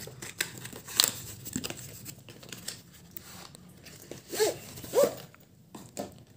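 Packaging of an Apexel DG5H 5-in-1 fisheye, macro and telephoto phone lens kit being opened by hand: scattered crinkles, tears and rustles in short irregular bursts, close up, with a few sharper snaps and no speech.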